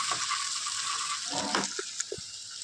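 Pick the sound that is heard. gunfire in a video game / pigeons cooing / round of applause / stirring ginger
stirring ginger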